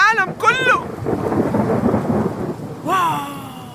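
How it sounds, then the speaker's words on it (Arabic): Heavy rain hisses steadily in a cartoon while a deep rumble of thunder rolls through, with tonal voices or effects briefly breaking in at the start and end. "واو السما تمطر، يلا ندخل جوا الحين."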